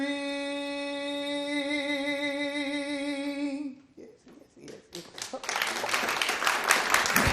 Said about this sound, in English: thank y'all for joining me and clapping and such like that